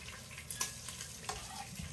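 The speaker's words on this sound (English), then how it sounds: "meat's making more noise. That means it's ready to flip." Short rib meat sizzles quietly in a pan, a soft crackling frying hiss with a few small pops and no talking.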